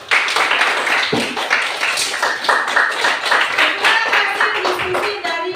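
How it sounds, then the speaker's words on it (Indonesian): A classroom of students gives a lively burst of clapping, many hands together, loud and close, sustained for several seconds with scattered voices mixed in. "berikan aplaus dulu"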